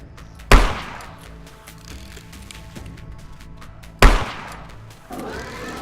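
Weapon fire in the video game StarForge aimed at a bug creature. Two sharp, loud blasts land several seconds apart, each ringing out briefly over a low game-ambience bed.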